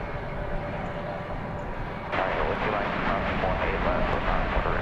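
An Airbus A320-200 arrives at DFW Airport from Guadalajara. Its engine noise is a continuous broad rumble that jumps abruptly louder and brighter midway and stays there. Faint background speech may run underneath.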